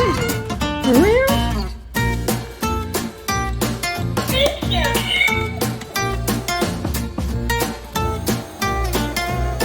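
Small toy kitten producing repeated electronic meows, close and fairly loud, over a busy background with music-like tones; an adult voice speaks softly at times.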